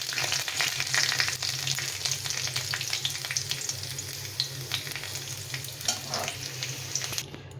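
Potatoes frying in oil give a steady close sizzle with scattered crackles and pops, continuous and fairly loud, with no voices over it.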